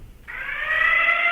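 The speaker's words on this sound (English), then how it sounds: "Hold the lunk alarm for 30 seconds." Planet Fitness lunk alarm sounding in a gym workout area: a loud, steady electronic siren-like tone that starts abruptly after a short quiet moment and holds continuously, with no voices.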